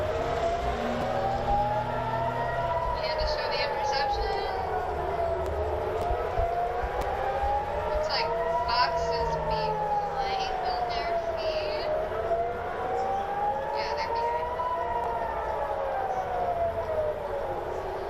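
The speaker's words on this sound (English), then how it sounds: "you can hear those sirens going off" Air raid sirens wail across Israel, their long rising and falling tones cycling steadily throughout, loud and continuous, with faint voices and background noise beneath.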